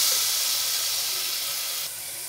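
A spice paste for potato kurma sizzles in a pan on the stove, giving a steady, close hiss that drops a little in level near the end, with no talking.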